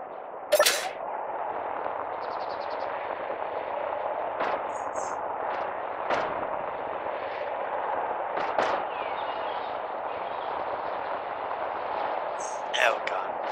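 Mech-mounted gun in Space Engineers letting off a handful of sharp, scattered shots over a constant mechanical hum, with someone talking throughout.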